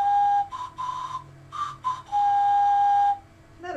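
A handmade ceramic whistle with two small holes on top sounds a clear, fairly loud tone in several short bursts, then one longer sustained note, shifting pitch slightly between notes.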